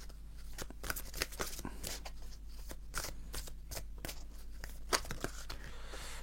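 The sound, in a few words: drawing and handling cards from an oracle card deck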